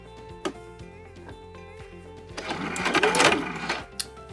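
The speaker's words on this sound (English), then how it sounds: "I've stitched all the way across" A sewing machine stitches across a mini zipper pouch, with scattered mechanical clicks followed by a denser, louder run of stitching for about a second and a half, then a final click, close up and without speech.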